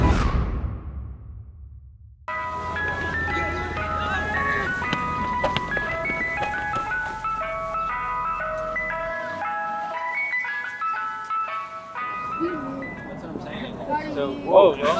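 An ice cream truck passes in summer heat and plays a bright, repeating chiming jingle that starts after a brief whoosh and carries on steadily, with voices faintly heard at the start and end.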